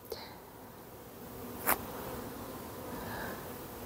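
A honeybee swarm, homeless and still full of nectar, hums in a steady, faint, continuous drone throughout, with one brief sharp click partway through and no voices.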